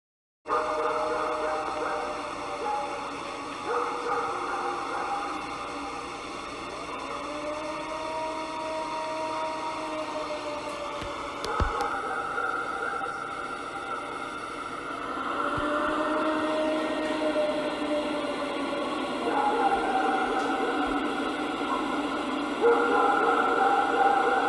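A long, wavering, mournful howl recorded in Ohio rises and falls, drawn out over a steady droning background noise and heard at a distance.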